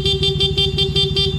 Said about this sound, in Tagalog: Yan yung stock horn, yung loud horn natin.